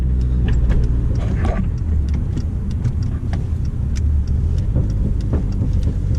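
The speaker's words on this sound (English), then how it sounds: "You get to hear the blow off every time you let off the gas." A Dodge Neon SRT-4 with a turbo and blow-off valve drives along, its engine a loud, constant low drone inside the cabin, dotted with sharp intermittent clicks and ticks.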